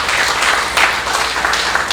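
Sustained audience applause after a speaker introduces an honored guest at a gathering, a dense steady wash of clapping hands with no voices, holding loud and even for the whole stretch.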